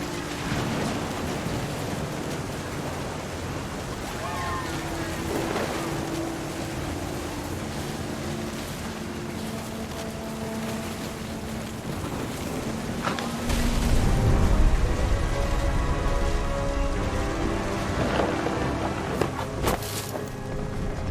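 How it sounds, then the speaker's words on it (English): Steady heavy rain and rolling thunder fill a stormy scene in the video game What Remains of Edith Finch, with wind and a deep, louder thunder swell midway, continuous and enveloping without speech. "The thunder sounded much too close and full of angry power."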